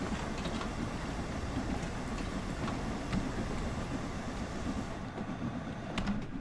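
A steam train in Train Sim World 3, running on a railtour from Faversham to Dartford in Kent, gives a steady dense rumble with faint rhythmic clicking and clanking throughout, no voices.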